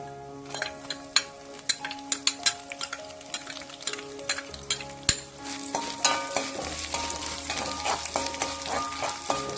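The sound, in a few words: garlic and ginger frying with fenugreek in oil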